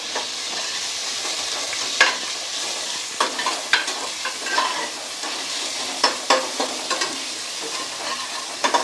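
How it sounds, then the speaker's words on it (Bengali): Ginger paste frying in a pan for khichuri, a steady close sizzle punctuated by scattered scraping knocks of a spoon stirring, no talk. "আদা পেস্টটা দিয়ে দিচ্ছি, এটা লাল লাল করে ভেজে দেবো"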